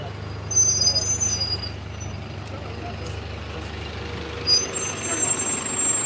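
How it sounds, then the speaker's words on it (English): London buses and other heavy traffic rumble past on a street, with a continuous low engine drone, occasional brief brake squeals, and vehicles passing nearby. "we'll wait for the buses to go by"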